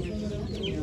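Chickens at a poultry auction in Ankara give short clucks amid a dense, noisy background of crowd murmur and barn sounds, heard only for a brief moment.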